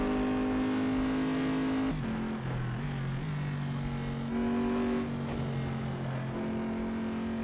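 Porsche race cars in a racing video game buzz with strong engine tones that rise, drop at gear shifts and pull again, several pitch steps across the stretch, close and continuous with no talk.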